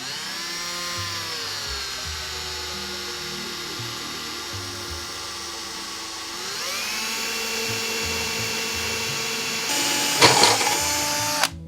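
A power drill whines steadily, its pitch dipping and climbing as it bites in, ending with a rougher grinding burst near the end.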